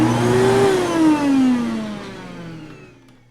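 A vacuum cleaner runs alone with a steady whining motor hum whose pitch rises and then slowly falls as it winds down, fading out near the end.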